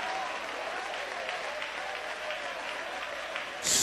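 A church congregation claps steadily through a Pentecostal service, a dense, even wash of hand-claps with a louder burst right at the end.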